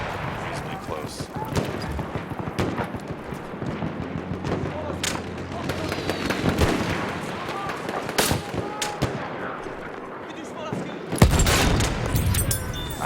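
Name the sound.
gunfire and artillery cannon in the video game Battlefield 1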